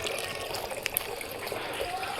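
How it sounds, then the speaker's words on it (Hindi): Water pours steadily into a container on a rooftop at evening, a soft continuous rush and trickle with occasional splashes, fairly faint and heard alone. "अब ये पानी भर रहा है"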